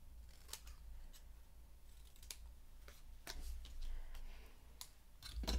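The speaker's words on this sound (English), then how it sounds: "So I'm gonna cut 1 1/4 inch strips by 3 inches" Scissors cut 1 1/4 inch by 3 inch paper strips for a scrapbooking layout. The snips come as a scattered series of short, crisp, close clicks over a faint steady hum, with no talking.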